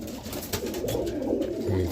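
Roller pigeons, bred with South African birds, coo softly in soft repeated low calls at close range, with faint rustling and no talk.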